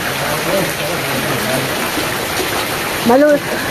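Steady rain hisses continuously at a private resort in Tagaytay, close and fairly loud, while people talk faintly underneath and a voice briefly rises near the end.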